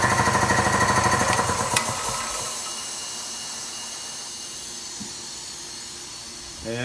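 A Kobalt 60-gallon air compressor with a 220V motor runs with a loud rapid pumping rattle at first, then settles into a steady hiss of air escaping from the open hose fitting, close and continuous.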